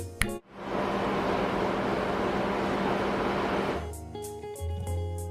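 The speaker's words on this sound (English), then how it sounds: "the engine room sounds like this" Loud, steady broadband roar of machinery in a large ship's engine room, a dense continuous drone that starts after a brief clunk and then cuts to quieter hum and faint ticking.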